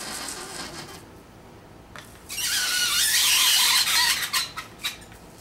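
Dry ice pressed against metal gives a loud, sustained shrill squeal that swells after a quieter start and breaks into a few shorter squeaks near the end.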